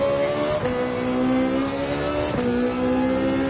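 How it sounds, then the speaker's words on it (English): A Ferrari 458 engine in Gran Turismo 7 on the Spa circuit howls at high revs, with two quick gear shifts cutting the tone before it climbs again. "The Ferrari 458 is fast."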